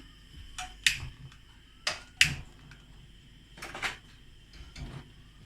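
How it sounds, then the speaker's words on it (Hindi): A kitchen stove is lit with a few sharp, quiet igniter clicks spaced irregularly over a soft background. "चूल्हा जलाऊंगी मैं।"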